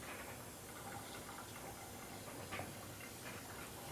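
Tap water running steadily over a potted plant in a sink, a faint continuous hiss and splash with a few soft drips, heard alone.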